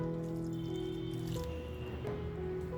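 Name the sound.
kneading carrot and curd mixture with a little water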